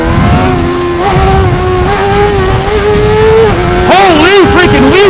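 A Honda CBR600RR motorcycle on a night ride holds a loud, steady high-revving engine note during a wheelie, then the pitch wavers and swoops up and down near the end, close and continuous.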